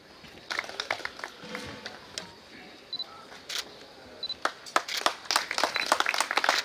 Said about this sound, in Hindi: करतल ध्वनि से स्वागत और अभिनंदन इस सम्मान के